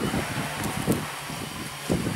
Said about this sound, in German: Achtung, starker Wind.